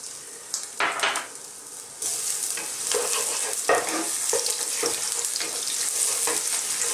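Garlic and ginger frying in oil in a frying pan for squid adobo in coconut milk: a steady, close sizzle that swells as the aromatics hit the oil, broken by a few scrapes and knocks of a spatula.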